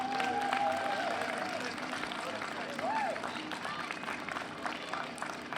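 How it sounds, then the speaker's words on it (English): An outdoor audience at an evening lantern festival applauds continuously, a dense wash of many hands at moderate distance, with voices and a brief whistle-like tone rising through the crowd. "So can we give Amber and her team a round of applause?"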